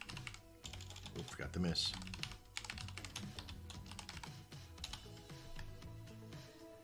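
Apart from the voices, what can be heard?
typing on a computer keyboard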